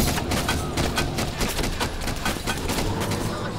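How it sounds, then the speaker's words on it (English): Rapid gunfire from the video game DayZ, a dense, loud burst of repeated shots that continues without a break for several seconds. "He's got his gun. He's firing."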